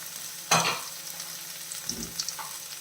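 Bitter gourd and onion sauté in a hot pan, with a sharp sizzling burst as they are stirred, then a softer scrape and faint crackling under a quiet background.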